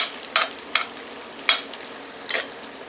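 A yellow onion cooks in a pan with a soft background sizzle, punctuated by a few sharp, scattered crackles and light stirring taps.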